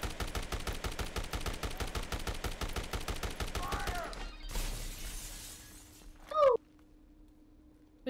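Rapid gunfire bursts from Dead Rising: Deluxe Remaster, a dense string of sharp shots for about four seconds, then a heavier blast and a brief high shattering crack, fading to a low hum.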